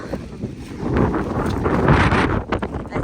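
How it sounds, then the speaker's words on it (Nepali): Strong wind buffets the microphone outdoors during light rain, a loud steady rushing roar with gusty surges and no talk. "हावा धेरै चलिरहेको छ"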